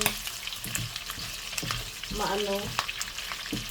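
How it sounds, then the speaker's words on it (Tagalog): Pork stirred as it fries in its own rendered fat for crispy pork: a close, busy crackle with repeated scraping strokes of a utensil, and no one speaking. "haluin mo lang ng haluin para magpantay lahat yung kulay niya"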